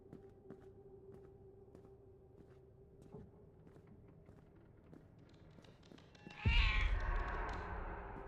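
Cat meowing in the video game Kitty Nightmare Shift, a few faint, soft cries over a quiet hum before a sudden loud burst of noise near the end.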